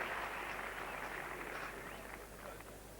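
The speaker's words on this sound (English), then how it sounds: "There'll be no shortage of applause here today" Applause from a modest cricket crowd at a Headingley Test match between England and West Indies, a steady, distant patter of clapping that holds evenly throughout with no voices over it.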